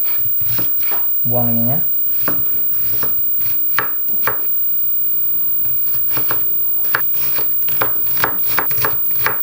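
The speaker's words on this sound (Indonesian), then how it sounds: "Dipotong kubus juga sekecil mungkin." A knife chops onion into small cubes on a board for a Korean egg roll, giving quick, irregular sharp taps close by while a voice talks over parts of it.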